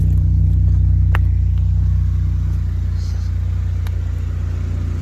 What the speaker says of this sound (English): it's got an intake in a different muffler, so if we start this thing up, y'all hear it a bit